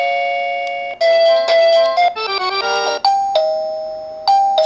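A Pyronix smart doorbell chime plays its standard tone, a loud, clear electronic melody of ringing bell notes that shifts through several short phrases with no talking.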